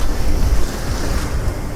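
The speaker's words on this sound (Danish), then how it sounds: "De her bølger og det her vejr." Wind-whipped sea waves on a cold winter coast during sea trout fishing: a loud, continuous rush of surf mixed with gusty wind buffeting the microphone, steady throughout with no talking.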